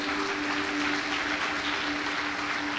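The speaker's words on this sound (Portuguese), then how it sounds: "Erga suas mãos, aplauda ao nosso Deus." A congregation claps steadily through a Sunday morning church worship service, a dense even patter with a faint sustained tone underneath and no talking.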